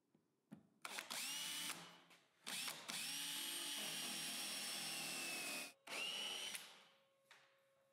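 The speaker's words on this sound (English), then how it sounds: "I start by drilling a few 20 millimeter holes" A power drill bores 20 millimeter holes into wood in several long whining bursts, motor pitch rising and falling between runs, close and loud with short pauses.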